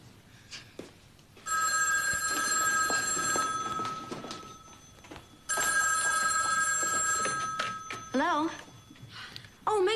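A telephone rings in a Santa Barbara TV series scene: two long, loud electronic bell rings with a pause between, voices speaking before, between and after the rings.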